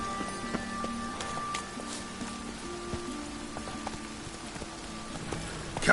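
The horse Roach clip-clops along with steady hoofbeats in The Witcher: Wild Hunt, faint and even under soft ambient game tones.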